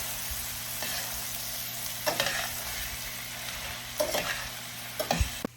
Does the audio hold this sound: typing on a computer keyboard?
no